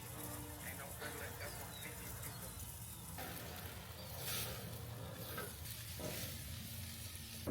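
Steak searing and sizzling in a hot pan, a steady broadband hiss with faint stirring and scraping, moderately quiet, with some background noise.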